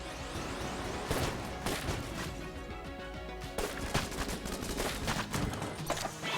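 Rapid, dense gunfire fills the whole stretch in the video game Enter the Gungeon, modded, with a duct-taped gun firing paper planes. Loud overlapping shots and crashing impacts come in continuous bursts with no talking.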